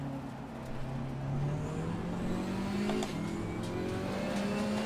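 A GT4 race car engine under way in the racing game Assetto Corsa Competizione, its tone climbing steadily through the revs with a brief dip at a gear change, loud and alone.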